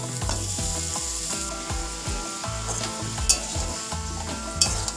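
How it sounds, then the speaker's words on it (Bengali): Fresh chhana being stirred into pointed gourd frying in a pan, a constant sizzle under repeated rhythmic scraping and clacking of a spatula against the pan, with a couple of sharper clinks. "এবার ছানাটাকে পটলের সাথে ভালো করে মিশিয়ে দিচ্ছি।"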